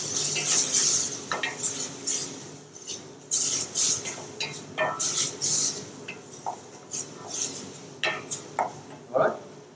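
Finely diced onion and garlic go into a pan and are stirred, with repeated metallic clinks and scrapes of a utensil against cookware, faint sizzling underneath, loud and close.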